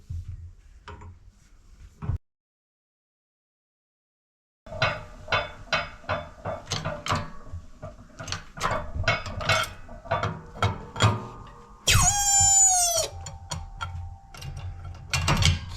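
On a 1972 Mazda RX2, new ball joints are driven into suspension arms with giant sockets: a run of sharp metallic knocks and clicks comes close and uneven after a silent gap, with a brief squealing screech near the end.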